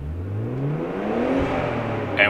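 Car engine revving freely on a street during MAF tuning, the pitch sweeping upward as the revs climb, then easing off, loud and close.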